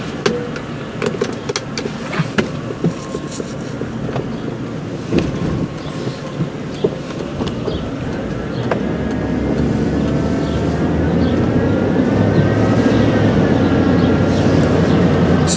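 A 2004 Chevy Avalanche with a 5.3 V8 engine on a test drive, heard from inside the cabin as a steady rumbling drive noise with scattered clicks and knocks that builds to a louder, even engine hum.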